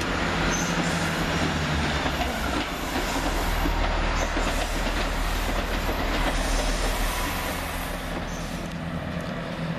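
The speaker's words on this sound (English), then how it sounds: "there goes 165011 with the 1710 Chiltern Railway service to Bicester Town and Islip" A Chiltern Railways class 165 passenger train departs a station, rumbling past close by, loud and continuous, with clattering wheels and a faint metallic squeal over the heavy roar.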